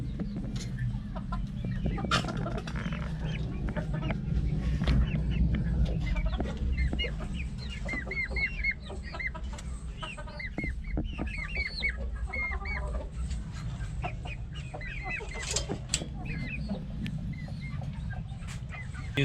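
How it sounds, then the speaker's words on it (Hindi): Young chicks under two months old and grown chickens in summer keep up a steady mix of high peeping and clucking, with clustered bursts of chirps rising and falling at close range. "पहले ये आप छोटे छोटे नन्हे मुन्ने चूजे देख लें।"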